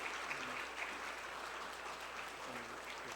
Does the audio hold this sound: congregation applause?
yes